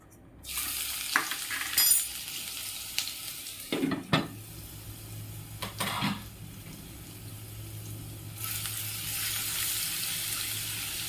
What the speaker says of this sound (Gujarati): તો આપણું તેલ ગરમ થઈ ગયું છે સૌ પ્રથમ હું તેમાં આદું અને લસણની પેસ્ટ છે જે ઉમેરીશ